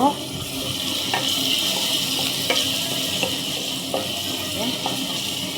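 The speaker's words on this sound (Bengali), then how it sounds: "এই যে আমার গাজরটা ভাজতেছি" Carrots frying in a pan with oil at home, cooked after the onions as part of fried rice for children. A steady, close sizzle runs throughout, broken by regular clacks and scrapes of stirring.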